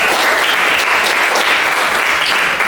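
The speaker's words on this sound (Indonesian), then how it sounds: "Kita tepuk tangan." A classroom of students applauds together, a loud, close, continuous burst of clapping that fills the room without pause and with no voices over it.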